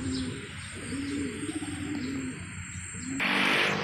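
Racing pigeons coo in a low, repeated rhythmic burble close by, with steady outdoor background noise and a brief broadband burst near the end; no one speaks.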